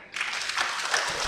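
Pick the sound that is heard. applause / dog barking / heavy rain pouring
applause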